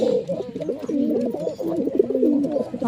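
Domestic pigeons perched in a tree at a house give soft, throaty cooing that repeats continuously and close by. A faint background murmur sits beneath it.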